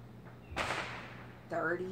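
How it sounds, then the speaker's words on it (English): A single sharp bang bursts out and then trails away, followed by a brief whistling crackle; distant, with no voices. "You guys are going to hear fireworks throughout this whole video."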